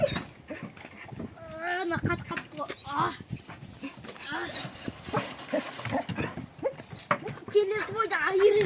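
An Alabai dog whimpers and whines in high, wavering cries mixed with short yelps. People talk nearby throughout.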